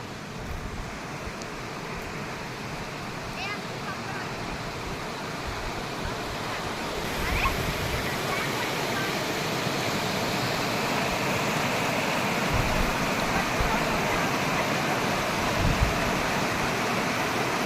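Steady, broadband rushing of a stream flowing beneath a newly built bridge, even and continuous for the whole stretch with no voices.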